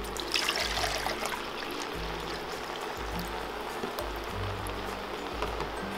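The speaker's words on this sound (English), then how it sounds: "now we're gonna add about 4 cups of water." Water is poured into a pot of seasoned yellow rice with chicken, herbs, pepper and corn. It makes a continuous splashing trickle lasting several seconds, fairly quiet and with no talking.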